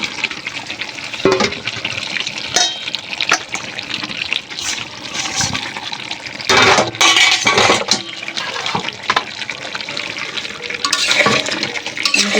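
Mutton with fried potatoes and added fat being stirred in a kadai, wet scraping and sizzling with bursts of louder stirring throughout, close and fairly loud, no talking.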